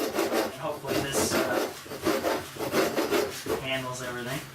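Gritty, rhythmic grinding and rasping as a drill goes straight through wood, strokes repeating about once a second, close and moderately loud, with no voices.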